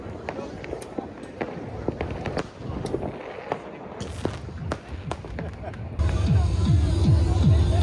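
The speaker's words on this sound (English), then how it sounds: "Bloody fireworks in the middle of the tree there." Irregular pops and crackles of fireworks fired into a tree go off repeatedly at a distance, with a voice speaking under them near the end.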